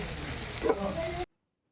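Brief close sizzling of bitter gourd frying in oil with a light stir, ending abruptly in silence.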